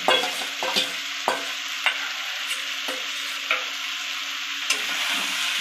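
Fish roe frying with pumpkin in a pan, a constant close sizzle punctuated by regular scraping strokes and knocks as the spatula stirs the mixture.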